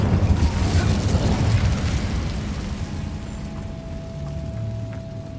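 An Incendio fire spell cast in the Hogwarts Legacy game, a rumbling whoosh of flame that is strongest at the start and then fades into a low, steady hum.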